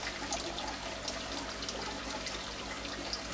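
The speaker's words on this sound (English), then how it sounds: "You can see the water flow, water coming out. This is from the small drip hole" Water trickling from the small drip hole of a home aquaponics kit fed by a 12 watt pump, a steady close splashing flow over a low continuous hum, with no voices.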